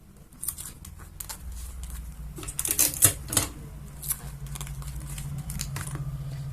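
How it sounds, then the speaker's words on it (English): Tape being pulled, torn and pressed onto a paper Red Hulk action figure, a run of short crisp tearing and tapping sounds close by, with a steady low background hum and no talk. "Tape all of it together, make sure it doesn't open up."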